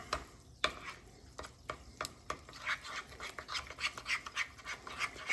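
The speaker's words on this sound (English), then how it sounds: "Just want to stir this until..." A spoon stirring a yeast mixture in a container, quiet, with irregular scraping and clinking strokes, sparse at first and then quickening into a steady rhythm, close by and alone.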